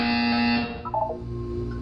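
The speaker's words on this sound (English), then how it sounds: "You will hear a buzzer." A loud, harsh electronic buzzer from the video game Portal 2 sounds alone in a single sustained blast, then cuts to a fainter tonal murmur.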